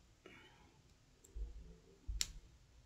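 Wire cutters snip craft wire on a small wrapped pendant for a cabochon, giving two sharp, close clicks about a second apart in a quiet room.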